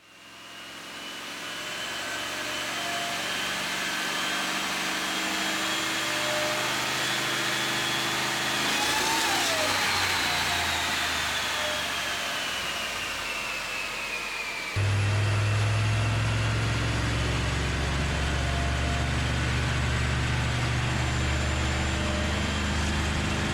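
Supercharged big block engine in a Suburban running hard on a dyno, a loud sustained roar and whine that rises in pitch and then shifts into a heavier, deeper drone.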